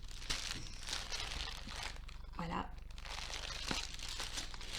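A sheet of paper from a Disney craft canvas crinkles and rustles steadily as it is handled up close, running beneath a woman's spoken French throughout.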